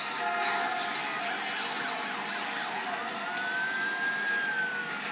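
Police car sirens wail loudly and continuously in Need For Speed Most Wanted on iPad during a race chase, with the warbling tones layered over the game's engine noise.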